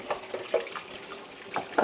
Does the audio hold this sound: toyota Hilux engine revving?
no